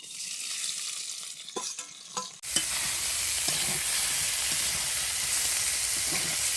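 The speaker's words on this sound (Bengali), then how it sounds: "এবার তেলে চিংড়ি মাছগুলো ভেজে নিছে।" Prawns dropped into hot oil, quiet clatter and handling at first, then a sudden loud burst of vigorous sizzling that continues steadily and close until cutting off at the end.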